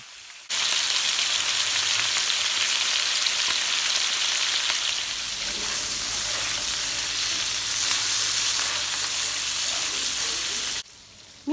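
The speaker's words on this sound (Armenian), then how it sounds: "թողնելու եմ միսը, որպեսզի մի քիչ էլ տապակվի" Meat sears in a pan with a loud, unbroken sizzle that starts abruptly and crackles on steadily at close range, with faint utensil scrapes partway through, then cuts off near the end.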